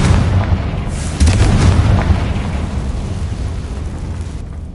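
Confringo blasting-spell explosion in Hogwarts Legacy, a loud, rumbling boom that swells and fades into a low, roaring tail.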